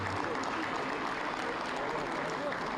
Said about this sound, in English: We'll give them one big applause for such a great group of seniors.